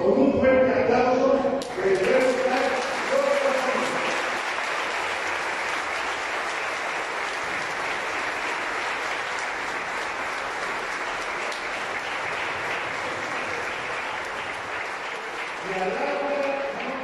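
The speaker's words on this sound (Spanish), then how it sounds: "hoy las vamos a despedir desde esta reunión con un fuerte aplauso" An audience at a political party assembly breaks into loud, sustained applause that stays broad and even for most of the span, with voices heard briefly at the start and end.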